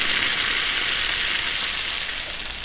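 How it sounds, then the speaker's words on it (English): Kadai paneer sizzles in a small, hot korai dish, giving a loud, continuous frying hiss that eases off slightly toward the end. "I'm using a smaller Korai dish that I'm heating up, and it's nice and sizzling."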